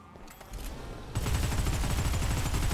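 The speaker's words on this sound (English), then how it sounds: "The Pack-a-Punch M4 goes hard." Pack-a-Punch M4 firing in the video game Hellbreach Vegas, a sparse shot or two at first, then a dense, loud stream of rapid automatic gunfire that continues to the end with no talking.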